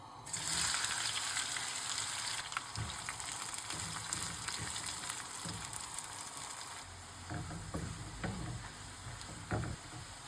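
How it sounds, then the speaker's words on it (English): Sliced onion frying in hot oil in a pan, a steady loud sizzle with occasional clinks and stirring scrapes, no talk. "In another pan, add some more oil and bring the heat back up. Throw in the sliced onion,"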